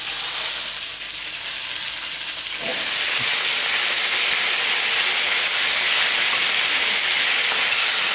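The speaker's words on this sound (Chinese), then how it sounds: "然后下肉，稍微煎一下" Pork belly hitting hot oil in an iron wok with ginger, scallion, spices, Sichuan peppercorns and chili, a quiet hiss that swells into a loud, dense, steady sizzle, no voices.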